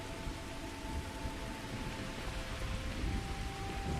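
Steady rain pours in a rainy outdoor setting in the game Starfield, a dense, even hiss with faint rumbling beneath and no speech.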